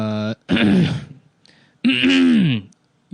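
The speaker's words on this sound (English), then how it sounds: "most people check in just to hear me clear my throat" A person clears their throat twice in quick, gravelly rasps, close and loud, with brief pauses between.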